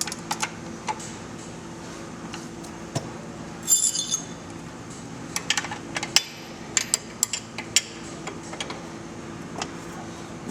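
A wrench loosens a nut on a vehicle shift rod, making scattered small metallic clicks and ticks close by over a low steady hum, quiet overall with a brief cluster of brighter clinks midway.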